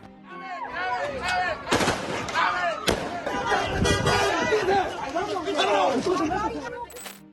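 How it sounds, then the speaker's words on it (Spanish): Gunshots crack and echo through city streets during clashes between the Mexican army and civilians, several sharp loud bangs with ringing tails over a background of crowd noise and shouting voices. "el bullicio de la vida cotidiana se ve abruptamente interrumpido por el eco de balazos"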